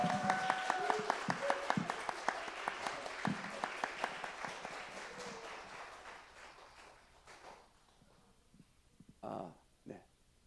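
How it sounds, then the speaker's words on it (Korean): An audience at a church Christmas service claps warmly, a dense burst of applause that gradually thins and fades away, followed by a couple of faint knocks. "뜨거운 격려의 박수 다시 한번 부탁합니다."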